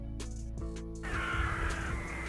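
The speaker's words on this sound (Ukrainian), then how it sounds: "це ворона." A crow caws a few times in harsh, clear calls, at moderate distance, over a steady background hum, with no voices.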